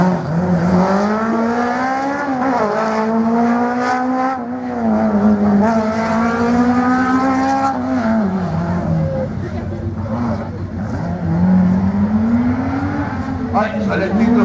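Rally car racing on a slalom track at Agon-Coutainville, a loud sustained engine roar rising and falling through gear changes as the car accelerates and turns, with commentary over the engine throughout.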